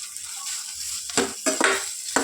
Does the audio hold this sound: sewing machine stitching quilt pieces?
no